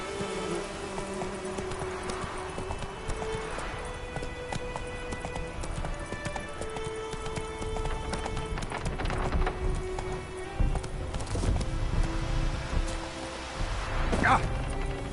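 Roach, a horse in a video game, gallops with steady clip-clopping hooves under busy game music and effects, with a louder crash near the end.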